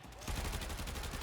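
Rapid-fire gun shooting in the Warframe video game, a dense continuous burst that kicks in after a brief lead-in and keeps hammering steadily, loud and close.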